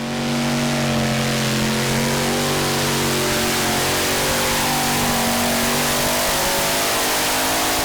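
Pulling tractor with five Chevy Oldsmobile engines roaring under load at a Eurocup tractor pulling event in Hajdúböszörmény, Hungary, a loud, sustained multi-engine drone holding steady pitch throughout.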